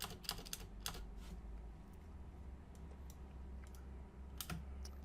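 Typing on a computer keyboard, quiet clicky keystrokes in short irregular bursts over a steady low background hum.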